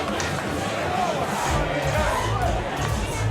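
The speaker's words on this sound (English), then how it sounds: "The crowd are thoroughly enjoying themselves." Crowd noise from spectators at a 2013 ISF softball playoff game, a steady roar of chatter and cheering that holds at an even level throughout.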